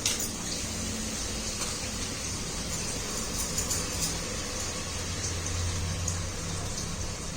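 Water sloshes and splashes steadily as rice is rinsed clean by hand before cooking a soya and capsicum pulao in a home kitchen, close and continuous without talk.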